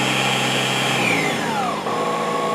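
A Proxxon DB 250 microlathe turns a wooden nutcracker leg, giving a steady, loud motor whine with a cutting tone that slides downward near the end, continuous throughout with no talk.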